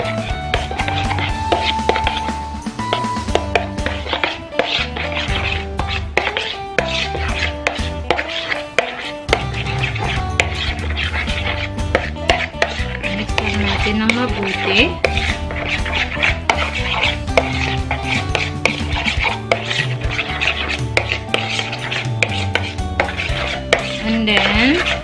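Chicken and yoghurt marinade being mixed in a bowl, with busy clinking of a utensil against the dish and soft wet stirring, close and continuous for about twenty-five seconds without speech.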